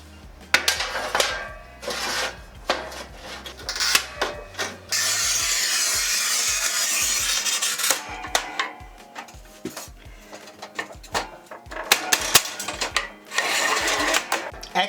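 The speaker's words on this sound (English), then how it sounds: "Moving on to a 3-foot, 36-inch porcelain plank." A Sigma 3D4 tile cutter scoring and snapping a 36-inch porcelain plank, with a long, steady, loud scraping rasp as the wheel runs along the tile, framed by sharp clicks and knocks of handling before and after.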